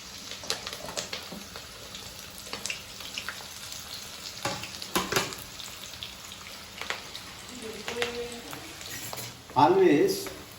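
Onion dropped into roughly 150 to 200 millilitres of hot oil with chillies for a mutton curry, a steady crackling sizzle with brief clicks of stirring and a louder burst near the end, a voice talking faintly underneath.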